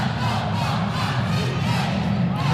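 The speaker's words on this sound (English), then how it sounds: "This is a very loud crowd here for Florida State." A loud home crowd roars steadily at a Florida State women's basketball game against Virginia Tech, a dense sustained cheer filling the arena throughout.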